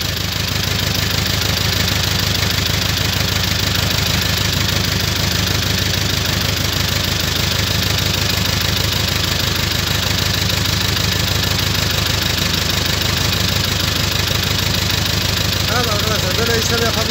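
A diesel vehicle's engine runs steadily during bleeding of air from its fuel system, a loud, close, continuous idle with a faint rhythmic knock and no break in the drone.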